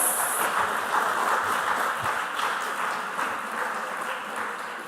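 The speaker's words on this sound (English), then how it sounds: "Please, a round of applause." Audience applause at the end of a school quiz contest semi-final: a continuous wash of many hands clapping at moderate distance, steady throughout with no voices on top.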